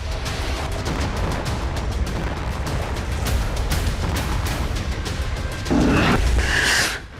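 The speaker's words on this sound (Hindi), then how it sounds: "समंदर के इस इलाके में इस वक्त जबरदस्त बारूद बरस रहा है।" Gunfire and explosions at sea during an Iranian IRGC naval exercise in the Persian Gulf: a dense, continuous roar of bursts and booms at a steady loud level, with a heavier blast toward the end.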